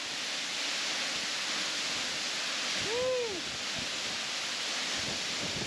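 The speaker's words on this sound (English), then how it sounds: "And it's very windy here for some reason." Steady, broad wind rushes across an open spot near Nadi, Fiji, constant and fairly loud, with a brief voiced exclamation in the middle.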